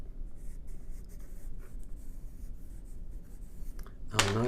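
Pencil drawing short fuzzy strokes on paper to build up otter fur, a close, soft scratchy scribbling in quick repeated bursts, ending with a brief voice.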